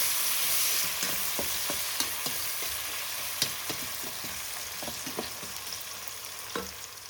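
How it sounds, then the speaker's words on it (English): Two onions sizzle in a pan over a medium-low gas flame for a lamb shank curry, a steady crackling fry broken by soft clicks and scrapes of stirring, close up with no talk. "Now we're adding these 2 onions. I'll put the gas to a medium low."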